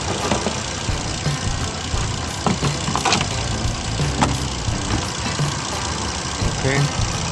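A Volvo car, 2011 or newer, idles steadily with a low, even engine rumble, while someone nearby handles the battery monitor sensor and a voice is faintly present over the running engine.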